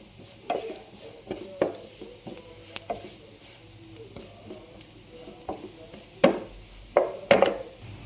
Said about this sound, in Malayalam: ഇതിൻ്റെ ഒരു പച്ചമണം മാറുന്നിടം വരെ ലോ ഫ്ലെയിമിലിട്ട് ഒന്ന് ഇളക്കി കൊടുക്കുക